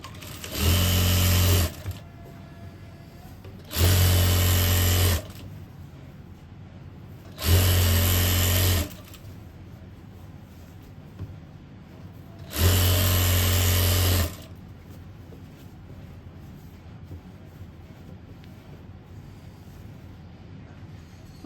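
An electric sewing machine stitches pant fabric in four loud bursts of about two seconds each, running close by with quiet pauses between runs.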